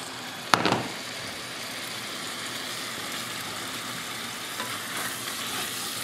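Water poured into a hot pot of chana bateta gives a sudden sharp hiss that settles into a steady, close sizzle lasting several seconds.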